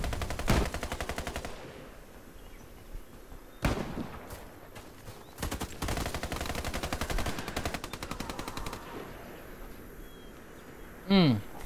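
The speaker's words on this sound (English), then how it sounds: "Oh, that was the LMG." Light machine gun fire in the shooter game Warface: Breakout, loud sustained automatic bursts in several long strings separated by short pauses, with a sharp single report and a voice speaking between volleys.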